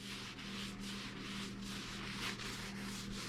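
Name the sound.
wiping windshield with alcohol to clean off debris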